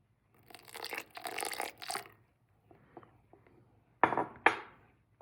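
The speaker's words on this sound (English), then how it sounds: "I'm just gonna stir it in slowly." Einkorn sourdough starter is stirred slowly in a container, scraping and clinking utensil strokes in short bursts with quieter pauses, then two sharper knocks of the spoon against the vessel near the end; no talking.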